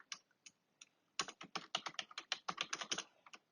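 Rapid clicking of a computer keyboard as text is written into a Google Doc, a few isolated taps then a dense steady stream of crisp close keystrokes with no voices.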